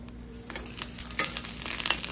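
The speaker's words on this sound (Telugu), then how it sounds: "నెక్స్ట్ పచ్చిమిర్చి కొంచెం వేయించాక లిటిల్ ఆయిల్ వేయాలి" Green chilies frying in a little oil for village-style mint chutney, a close, steady sizzle with soft stirring scrapes, brief and moderately loud.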